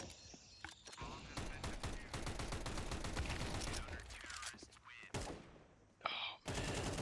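Rapid bursts of gunfire from the video game Counter-Strike fill the stretch, dense continuous rattling shots with brief gaps, loud and close, with a voice talking faintly underneath.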